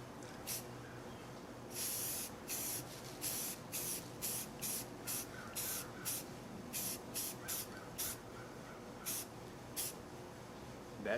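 Repeated short bursts of aerosol spray hissing, a dozen or so quick pulses with brief gaps, close and fairly loud, no talking.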